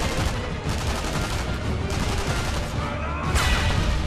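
A grenade explosion in the Sniper Elite V2 video game, heard as a dense, loud burst of blasts and rapid gunfire that keeps rolling for several seconds.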